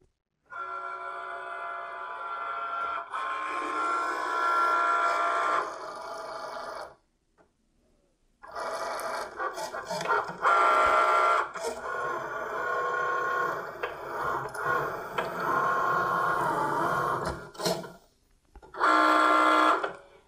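Cricut Maker cutting machine working through material on its mat, a steady mechanical whirring and buzzing of the carriage that runs continuously, pauses briefly, then resumes with short louder bursts, heard up close with no talk.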